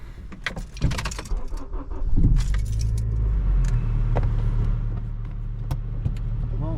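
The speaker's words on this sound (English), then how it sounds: "We'll start the car." A Honda Civic Si is started after keys jangle close by, the engine catching into a steady low idle that continues to the end.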